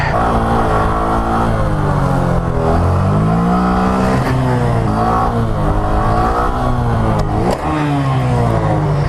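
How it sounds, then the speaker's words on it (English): Motorcycle engine during a handbrake coaster stunt on a stunt lot, a loud steady drone that rises and falls in pitch with shifting revs, close and continuous throughout. "We're ready to try handbrake coasters."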